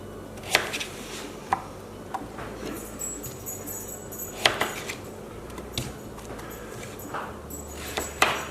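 A knife chops the neck of a butternut squash into pieces on a cutting board, sparse sharp thuds spaced a second or two apart, close and fairly quiet with no talking.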